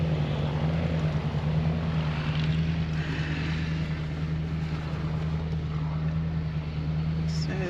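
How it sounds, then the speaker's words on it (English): Propeller aircraft at a country airfield in Junee or Temora, NSW, with a steady engine drone and broad wind-like rush throughout, low hum carrying without break. "So you can watch the planes coming in and taking off."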